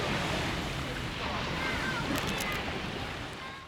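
Sea waves washing onto a Baltic Sea beach in Gdynia, a steady broadband surf wash with wind buffeting the microphone, fairly loud and continuous, easing slightly at the end.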